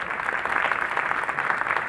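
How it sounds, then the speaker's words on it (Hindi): An audience claps steadily and fairly loudly at a Republic Day gathering, a dense continuous patter of many hands with no voices over it. "एक बार जोरदार सभी लोग ताली बजाएंगे गणतंत्र दिवस के अवसर पर"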